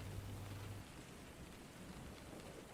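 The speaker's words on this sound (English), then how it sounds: "the sound of rain that has not once, not for a single hour, let us forget it's there" Steady rain falls continuously as a dense, even hiss with no distinct drops or thunder, fairly faint and alone without voices.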